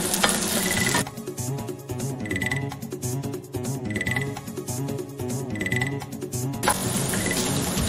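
Chopped onion, tomato and chilli fry in a pan for dhaba-style egg tadka, giving a loud, continuous sizzle with crackling pops and recurring brief bursts.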